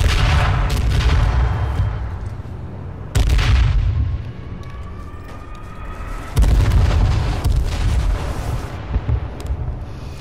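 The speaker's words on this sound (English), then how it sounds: "Run. Airstrike out." Airstrike explosions in the battle royale video game H1Z1 land as three heavy, loud booms with deep rumbling tails, spaced a few seconds apart, with no talk over them.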